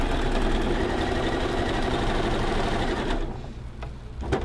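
A sewing machine stitches quilt pieces for a stars-on-parade quilt, running in a loud continuous whir for about three seconds before stopping, followed by light handling noises.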